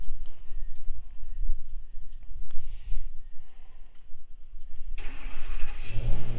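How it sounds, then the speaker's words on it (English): A new V10 truck engine cranks and catches, then runs with a steady low rumble, rising to a louder, brighter roar near the end. "he's gonna start that beautiful brand new V10 up. get you guys to hear that thing run"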